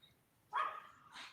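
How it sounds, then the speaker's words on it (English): A pet dog barks at home, one sharp bark followed by a softer second yelp, fairly close and clear over a quiet room. "My dog."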